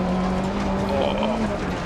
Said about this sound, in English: a little clutch kick there to get the power up or get the revs up